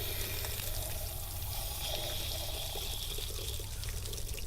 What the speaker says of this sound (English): so we are going to go ahead and drain the water heater again